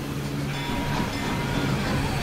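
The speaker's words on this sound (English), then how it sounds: "So we've got a ridiculously overpowered 460 now pulling the grain train." An overpowered locomotive pulls grain wagons in Transport Fever 2, a dense continuous rumble of rolling rail noise with a low steady engine drone, loud and unbroken throughout.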